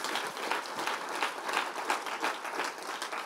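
A church congregation applauds for Jesus during a Spanish-language sermon, a steady wash of many hands clapping with rhythmic surges, moderately loud and without voices.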